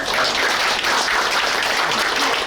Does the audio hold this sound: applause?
yes